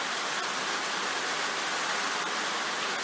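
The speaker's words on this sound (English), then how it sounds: "it's still raining, and it looks like, I'd say it's going to rain all night" Heavy rain falling during a wet, wild and windy storm, a dense unbroken roar of drops that stays constant and loud from start to finish with no voices.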